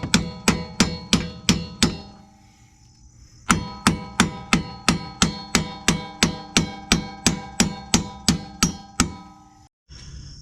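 Splined bolts are hammered out of a Mustang's suspension with sharp, ringing metallic strikes, first a run of about seven evenly spaced blows, a pause, then a longer steady series of around fifteen more, loud and close.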